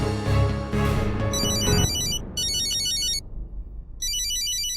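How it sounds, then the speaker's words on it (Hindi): A phone ringtone announcing an incoming call in a TV drama scene, a repeating high electronic melody in bursts with short gaps, over background music that fades early on. "रौनक की कॉल आई है। जल्दी उठाइए"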